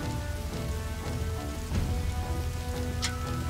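Steady rain falls in the Dynasty Warriors 7 video game, a dense, even hiss with a brief brighter splash near the end, set against faint background score.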